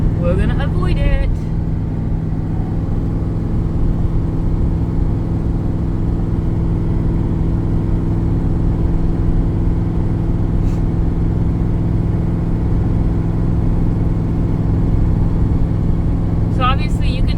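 A 2007 Ford F150 pickup truck drives at a steady pace, its engine and road noise forming a loud, even rumble throughout, with a few faint clicks near the start and end.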